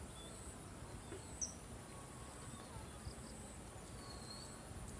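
Faint, steady cricket chirping fills a quiet outdoor background, with a brief high chirp standing out once.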